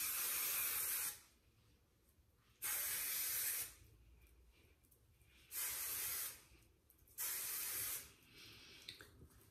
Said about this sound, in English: I'm gonna take my hairspray and really coat it good.